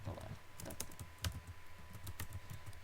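Someone types on a computer keyboard, close up, with quick irregular key clicks and a couple of sharper taps standing out.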